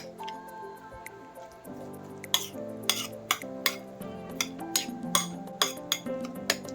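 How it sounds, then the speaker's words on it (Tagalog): A spoon stirs an egg into stuffed jalapeño filling in a bowl, with a steady run of bright clinks against the sides and soft wet squishing between strokes, close up and without talk. "lalagyan natin siya mga suki ng isang itlog. Yan. Then, haluin lang natin siya."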